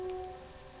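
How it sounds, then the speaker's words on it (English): Steady rain falling in World of Warcraft, a soft continuous patter over a faint tonal hum, short and fairly quiet, with no voices. "It looks like a pleasant spring rain though,"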